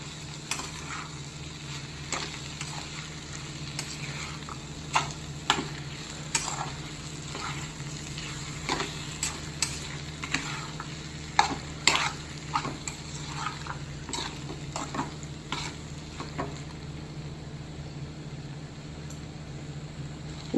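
Chopped tomatoes being stirred into brinjal curry in a pan, a quiet ongoing sizzle with a low steady hum and repeated light spoon clinks and scrapes at close range, with no talking.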